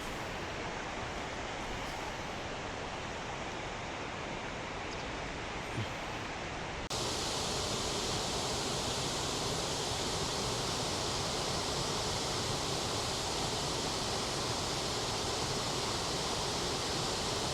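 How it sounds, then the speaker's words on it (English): Waterfall in a Norwegian fjord in midsummer, a steady broadband rushing roar of falling water that grows louder and brighter partway through and holds unbroken, with no voices. "I would like to show you what this waterfall looks like in the middle of summer here."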